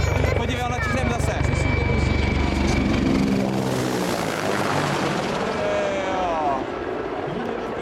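Mi-24 helicopter over Ivančice, a loud close rotor thumping and turbine roar that surges then slowly recedes, with a person speaking briefly beneath it.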